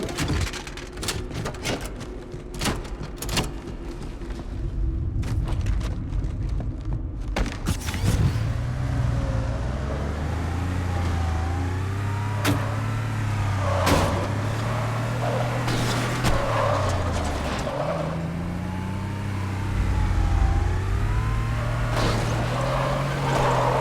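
A Warthog vehicle driving in Halo 2 on the Metropolis level: a steady engine drone that rises and falls as the vehicle speeds up and slows, with sharp clicks and gunfire-like bursts scattered over it and no voices.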